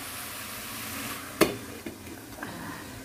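Vegetables sizzle in a large, full wok while being stirred, with a steady frying hiss and a few scraping clatters of the spoon against the pan.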